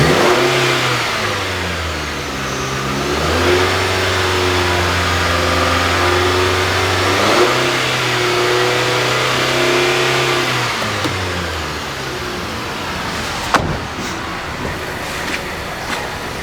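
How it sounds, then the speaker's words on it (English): A car with a suspected bad oxygen sensor is revved as the gas is applied, its engine climbing to a sustained higher pitch, holding, rising again, then settling back to a steady idle, loud and close throughout. "I'm gonna go in the car and I'm going to give it the gas"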